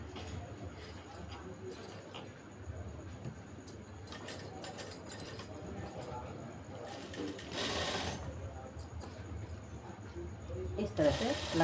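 Electric sewing machine running steadily while stitching palazzo trousers, a continuous close whirring hum with brief pauses and speed changes, someone talking over it.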